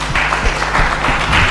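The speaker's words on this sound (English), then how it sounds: "A round of applause," Audience applause at a public leaders' alumni network gathering, a dense patter of clapping that keeps going at an even, moderately loud level throughout.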